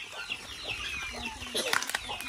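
Agitated hen clucking and squawking close by amid wing flapping and dusty scuffling in a yard, with people talking over it.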